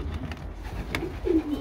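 A racing pigeon coos in its loft, a soft low throaty burble rising once near the end of a short, quiet moment with faint background noise.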